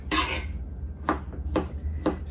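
A knife chops fresh parsley on a board in a few sharp, crisp strokes, one long scrape at the start followed by three evenly spaced cuts, close and fairly loud.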